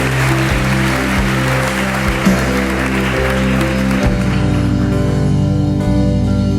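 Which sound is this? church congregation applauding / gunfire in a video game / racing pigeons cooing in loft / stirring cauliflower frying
church congregation applauding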